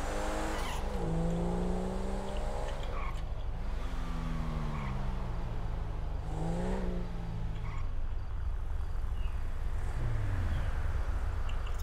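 Engine of a motorbike driven in GTA 5, droning steadily with repeated rising and falling pitch sweeps as it shifts and revs, loud and continuous throughout.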